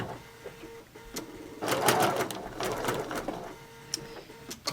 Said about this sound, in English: we're just gonna sew straight down